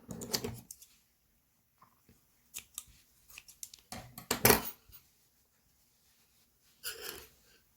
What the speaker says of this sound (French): Et là, on va couper.